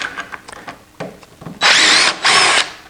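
A power drill backs big framing screws out of the top of a wooden sawhorse in two loud, close whirring bursts of about half a second each, after light knocks and handling sounds.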